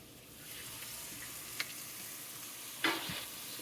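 Garlic sizzles in butter in a pan, a quiet steady frying hiss close by with a couple of brief clicks and a louder scrape near the end, with no voices.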